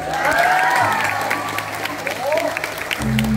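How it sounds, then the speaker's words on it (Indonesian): An audience at a Balinese drama gong performance in Denpasar applauds the gamelan musicians, with steady clapping running under a speaking voice whose pitch rises and falls over it. "Beri tepuk tangan buat penabuh."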